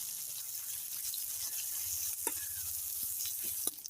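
Chopped onion sizzles in hot oil in a wok with chili paste, a steady crackling fry with occasional sharp pops and stirring scrapes, fairly close and heard alone.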